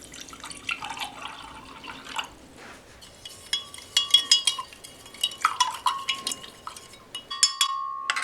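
Water is poured into instant cherry beverage mix from a Russian special forces mountain ration. Splashing and pouring come in bursts with light drips and a few clinks of a container, fairly close, and no voices.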